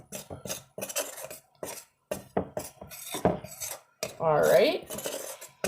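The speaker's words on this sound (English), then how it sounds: "we're going to combine our flour and our baking soda together" Flour and baking soda stirred in a bowl make quick, irregular metallic scrapes and clinks of a utensil against the dish, with one longer rattling stir near the end and a brief spoken remark.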